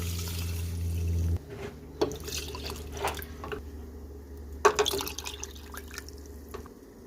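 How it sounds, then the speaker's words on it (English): Water poured from a cup onto two cups of rice in a kitchen, a few intermittent splashes and drips over a low background hum, moderately close and without talk. "Now I'm gonna put 4 cups of water."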